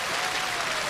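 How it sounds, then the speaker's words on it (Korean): Steady audience applause in a studio hall during a televised Korean amateur singing contest in Hongseong County, South Chungcheong, a dense, even patter of many hands filling the whole short moment. "건강하게 박수를 보내주시기 바랍니다"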